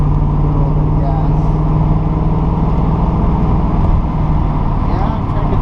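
A 1981 Chevrolet Camaro Z28 engine idles loud and close, a steady deep rumble with slight swells as the throttle is eased, without a sharp rev peak.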